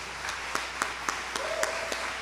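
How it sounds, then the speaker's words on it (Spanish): Thin, sparse applause from a church congregation during a service, a few scattered claps standing out over a soft, steady patter. "Un aplauso que es paradójico, un aplauso anémico."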